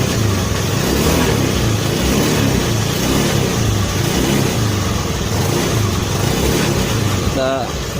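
A Honda Beat scooter engine revs loudly and steadily after a carburetor vacuum rubber adjustment. The pitch rises and falls in a wavering pattern for about eight seconds, close by.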